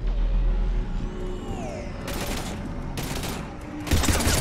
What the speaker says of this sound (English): Shoot him! You haven't forgot how to shoot, have you?